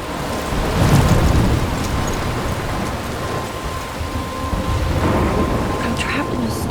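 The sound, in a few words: thunderstorm with rain in the video game Life is Strange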